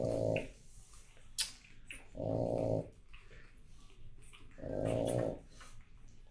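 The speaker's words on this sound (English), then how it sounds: "Oh, she's snoring." A pug mother dog, nursing three-week-old puppies, snores in slow rhythmic rumbling breaths, three long throaty bursts with quiet gaps between, close and moderately loud with no talk.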